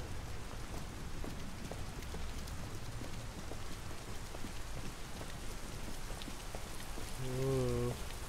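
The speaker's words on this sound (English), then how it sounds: "I love the sound of rain" Steady rain in Detroit: Become Human patters and hisses throughout, dense and close, with a brief low tonal chime near the end.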